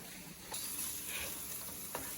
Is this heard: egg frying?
yes